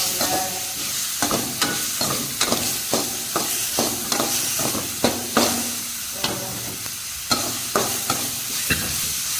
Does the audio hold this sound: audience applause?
no